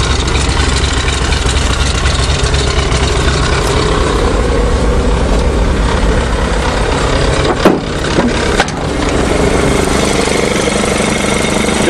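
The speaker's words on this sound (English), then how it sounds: "Oh, there, take the choke off. Instant start." A Chevy 427 dump truck engine idles steadily and loudly after starting on a spring farm, a constant low rumble that holds throughout with a couple of brief sharp clanks near the end.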